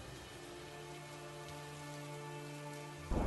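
Heavy rain falls steadily at a low level beneath a sustained tonal drone, then rises in a sudden louder burst at the very end.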